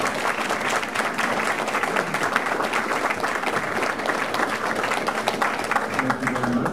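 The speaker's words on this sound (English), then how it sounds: "Let's give Brian Beecher a big round of applause" A lecture audience gives sustained applause after a talk, many hands clapping in a dense, even roar that holds steady throughout, with a few voices faintly underneath.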